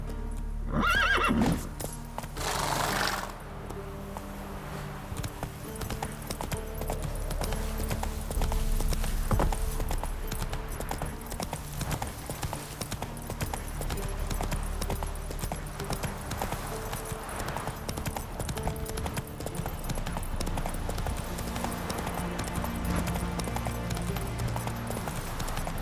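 A horse gallops in The Witcher 3, with fast game hoofbeats and a whinny near the start, running continuously under dense ambient game sound.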